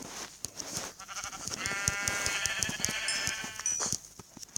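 Sheep bleating in a survival video game, a wavering, drawn-out bleat heard clearly over soft game ambience with scattered clicks and taps.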